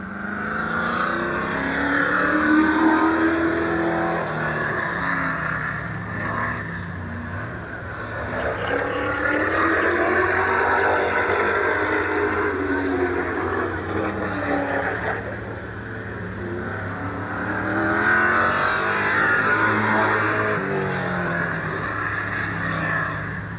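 A late model stock car circles a speedway oval during qualifying at Midvale Speedway in 1988. The engine drones steadily, rising and falling in long sweeps as the car comes near and moves away on each lap.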